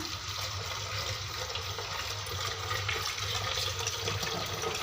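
Water running steadily while rinsing a rusty iron kadai, a continuous close splashing wash that stays even throughout with no talking.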